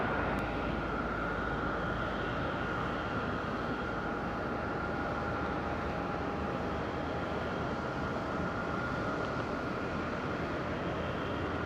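At Madeira Island Airport, an airplane takes off from runway 23 with a constant loud engine roar and a steady high tone. The roar holds without break throughout.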